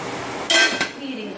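A metal lid goes onto a cooking pot of fish with a quick double clink, one bright clatter followed by a softer tap, close and brief over quiet kitchen background.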